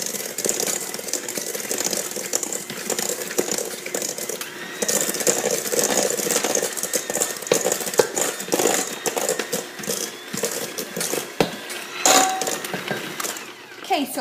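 An electric mixer creams ginger molasses cookie dough in a steady, close whirring drone that runs throughout with small rattling fluctuations.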